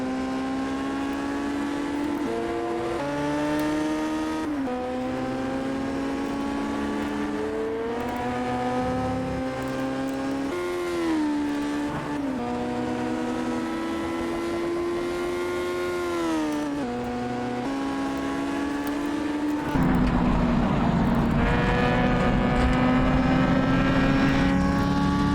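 Historic Formula 3 race cars scream past at Castle Combe circuit, loud high-pitched engines rising and falling through gear changes, one car dominant and close, with a louder burst of engine noise near the end.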